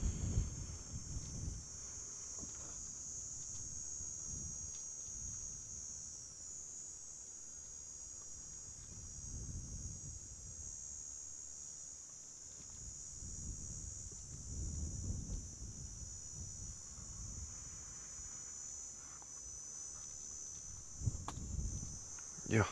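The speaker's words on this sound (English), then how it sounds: "Just hearing the cicada beetles vibrating away in the surroundings here." Cicadas vibrate in the surroundings outdoors as a steady, high insect drone that holds throughout, with faint low rustles, wind and movement underneath.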